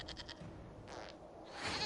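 A goat bleats in the Dragon Age Inquisition video game, giving a few short, faint wavering cries in quick succession over a soft background hush.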